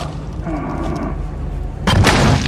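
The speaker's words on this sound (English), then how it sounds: "the goddamn shotgun" A shotgun blast in the horror game Little Nightmares II lands as a loud, sudden boom after a low, murky stretch of game ambience.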